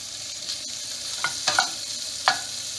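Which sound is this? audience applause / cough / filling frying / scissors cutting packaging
filling frying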